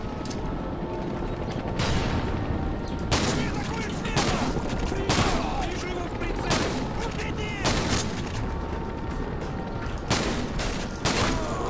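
Bursts of gunfire in the video game Modern Warfare 2 come at a steady rhythm of sharp, repeated shots, some quite close, with clanking mechanical handling sounds between them and occasional talk.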